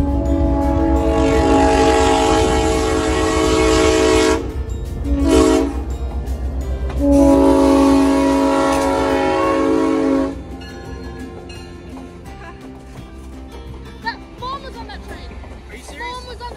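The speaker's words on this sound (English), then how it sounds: "Oh, a train." A passing train sounds long, loud blasts of its horn over the rumble and clatter of the cars on the rails, then the horn stops while the rolling rumble continues.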